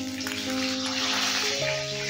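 Ginger paste frying in oil tempered with spices gives a steady, moderate sizzle beneath sustained tonal background music.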